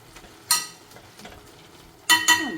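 Spinach palak curry with green peas being stirred in a pan, a few distinct scraping and clinking strokes of a spoon against the metal, with quiet sizzling between them.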